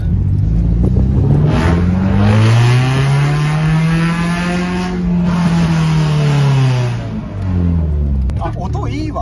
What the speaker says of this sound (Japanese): 俺、とりあえず車向こう持ってきます